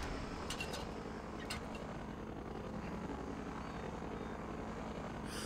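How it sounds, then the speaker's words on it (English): Helicopter rotors and engines from the low-budget video game Eve of Destruction Redux drone steadily and faintly in the distance, a constant whirring hum with no breaks. "Those helicopters are getting closer."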